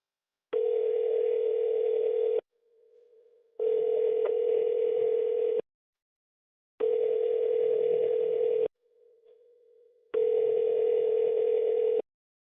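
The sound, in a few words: phone call ringing before going to voicemail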